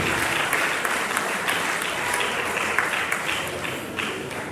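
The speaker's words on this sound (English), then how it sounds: "Please, a round of applause for our ICT." A university audience gives a round of applause for the ICT team at a lecture event, loud sustained clapping from a large crowd throughout with no speech over it.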